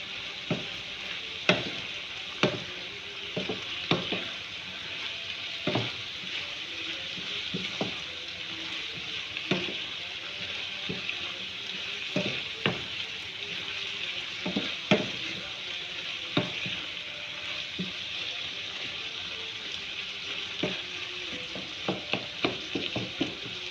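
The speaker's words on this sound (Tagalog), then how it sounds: "Haluin natin guys." Beef being stirred in a hot frying pan, with steady sizzling under a run of sharp spoon scrapes and taps against the pan's metal, close and fairly loud, irregular throughout and no talking.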